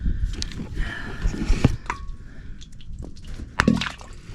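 Water at the bottom of a hand-dug shallow well during casing installation, with irregular drips, squishy splashes and sloshing in wet ground, a few sharper knocks standing out against low rumbling handling noise.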